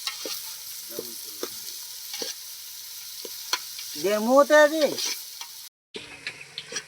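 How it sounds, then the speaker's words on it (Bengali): Onions and green chillies fry in oil for a desi chicken curry, with a soft steady sizzle and sharp clicking scrapes of a spatula stirring the pan, plus a louder rasping scrape midway. "ভাজা হয়ে গেছে, পেঁয়াজের তেল ছেড়ে দিয়েছে।"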